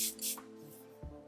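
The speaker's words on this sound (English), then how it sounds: "I'm gonna spray my face with the Fenty spray again" A couple of short, airy hissing bursts of Fenty setting spray onto a face, close by, with a steady low hum underneath and a soft knock near the end.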